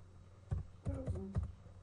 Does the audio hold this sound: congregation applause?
no